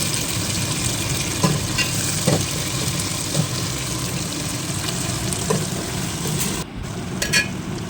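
Onions and tomatoes fry in a pan for a homestyle desi chicken curry, a steady close sizzle running throughout with occasional soft stirring knocks and no voices.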